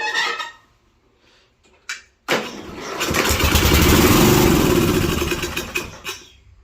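A Westwood T1200 garden tractor engine left outdoors unused for ten years cranks briefly, then fires up into a loud, rough, steady run before easing off, with a few faint knocks around it.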